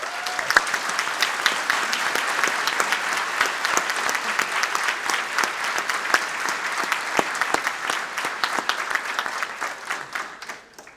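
A concert audience gives a warm round of applause for a jazz quintet at an agricultural and environmental sciences graduation ceremony, steady dense clapping that holds for the whole stretch and fades slightly at the end.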